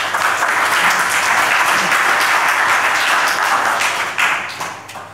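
Tech conference audience applauding after a session talk: loud, dense, sustained clapping from a full room that thins slightly toward the end.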